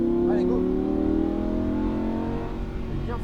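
A Lamborghini Huracan engine revs high and strains at full throttle on a race circuit, its pitch holding and slowly rising, loud and close, with brief talk over it.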